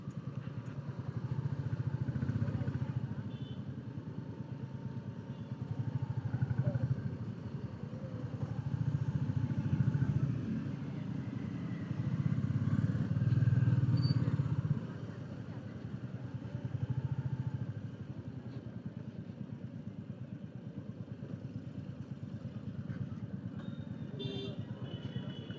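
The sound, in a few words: motorcycle riding through town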